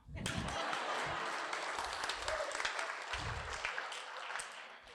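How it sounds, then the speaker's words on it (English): Warm audience applause at a storytelling event in Hawaii, a continuous crowd of clapping hands that rises quickly and holds steady, with a few low thumps and murmurs mixed in. "You can clap."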